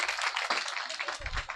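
Applause from an audience at a Christmas dinner gathering with a church-style prayer: dense, continuous clapping from many hands, fairly loud and close, steady across the whole moment with no voices over it.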